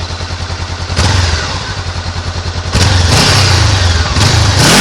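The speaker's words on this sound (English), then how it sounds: "I'll rev it a little bit for you guys" A Honda CBR500R motorcycle idles with a pulsing, lumpy beat, then is revved close up in three sharp throttle blips that swell and fall back to idle.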